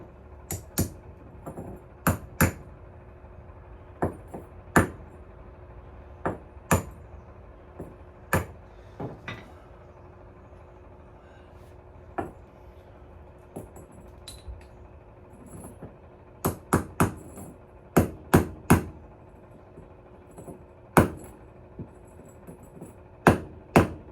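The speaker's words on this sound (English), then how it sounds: "I tapped them in with a hammer just to get them started" Sharp metallic hammer taps ring out irregularly as bearings are tapped into place on a zero-turn mower, single strikes and quick clusters, close and clear against a quiet background hum.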